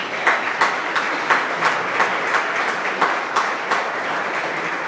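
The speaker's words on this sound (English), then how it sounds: "Let's give them all a round of applause." Audience at a university senior athletic banquet applauding, a dense, even wash of clapping from a crowd in a hall, with sharper individual claps popping out at a steady pace.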